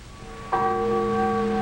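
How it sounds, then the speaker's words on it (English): A church bell rings once with a clear, sustained tone that hangs and resonates, heard alone over a quiet background. "They hadn't thought of the church bells."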